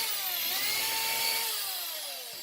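An electric drill fitted with a wire brush scrubs a 1960s headlight assembly, a loud sustained whine with shifting pitch that sags and fades slightly toward the end, no voices.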